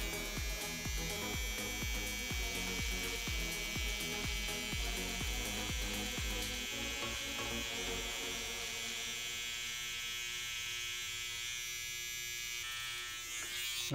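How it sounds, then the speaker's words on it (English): Electric hair trimmer shaping a goatee, a steady close buzzing hum that holds for the whole stretch, rhythmic pulses in the first half as the blade works into corners, then smoother and quieter. "I'm gonna dig into these corners a little bit more with the corner of my machine."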